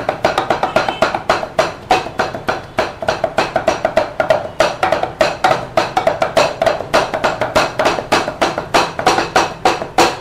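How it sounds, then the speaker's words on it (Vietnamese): A cleaver chops pork rapidly on a wooden board for Vietnamese blood sausage, a steady stream of sharp, close knocks repeating about four to five times a second with no speech. "Băm thì nó vất vả hơn một xíu"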